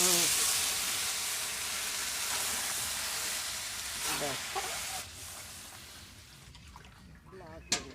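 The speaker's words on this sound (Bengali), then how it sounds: "এখন জল দিয়ে দেব" Water is poured into a hot pot of khichuri, giving a sizzling, bubbling hiss that gradually quiets, with faint voices and a small clatter near the end.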